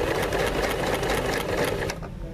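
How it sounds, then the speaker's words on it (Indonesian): Janome CT2480LX heavy-duty sewing machine runs fast through thick fabric, a close, steady mechanical chatter of rapid needle strokes that stops abruptly near the end. "Banyak yang mengatakan bahwa si CT2480 ini mampu menjahit segala jenis medan jahitan"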